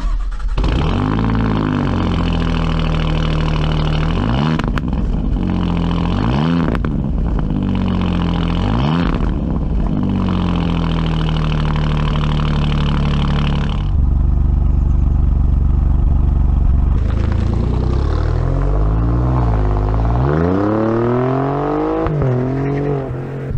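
An Alfa Romeo Giulia Quadrifoglio engine fires up and pulls away, loud and close, with repeated revs rising and falling before a sustained heavy drone and another climbing acceleration.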